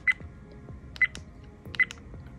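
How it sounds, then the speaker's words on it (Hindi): A REDTIGER F7N 4K dual dash cam sounds three short, high electronic button-press beeps, evenly spaced and close, over a faint hum with soft clicks between them. "मैं बटन सिलेक्ट कर रहा हूँ तो ये कुछ बीप बीप की आवाज़ आ रही है"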